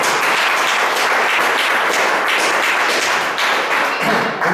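A congregation applauding at a pastors' Bible study, dense loud clapping that fills the whole stretch steadily without a break.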